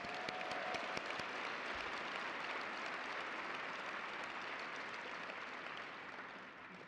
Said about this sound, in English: So, claps for us.